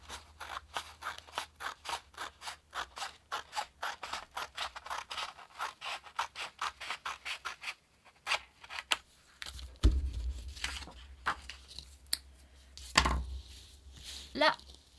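Rapid, rhythmic snips of scissors cutting through paper, close and crisp, slowing into scattered cuts and rustles with faint voices in the background.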